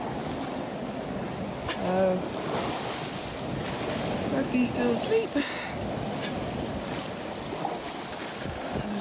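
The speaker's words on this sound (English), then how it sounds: "Choppy this morning, big waves overnight" Choppy ocean waves slosh and rush around a sailboat at sea on a Pacific crossing, a constant washing roar mixed with wind noise, while a person speaks quietly over it.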